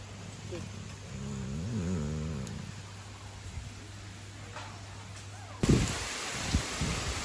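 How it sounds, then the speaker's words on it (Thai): Strong wind rushes and rustles in gusts around a campsite at night at Silarin campground in Nakhon Nayok, a broad steady noise over a low constant hum, with a voice briefly heard in the middle. "ลมพัดแรงเหมือนฝนจะตกเลย"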